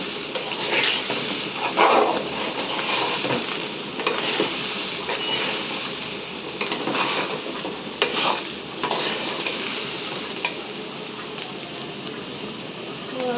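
Rice for pulao frying and stirred in a pan, giving a continuous sizzle with repeated scraping and clinking strokes close by. A dog barks faintly in the background, and no one speaks.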